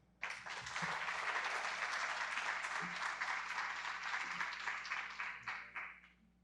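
An audience at a book presentation breaks into sudden, steady applause, many hands clapping densely for about six seconds before tapering off, in a room with a low hum.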